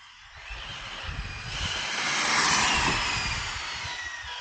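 A Hobao VTE2-8 RC buggy drives past, its high whining motor rising to a loud peak midway and then fading somewhat, heard alone without talk.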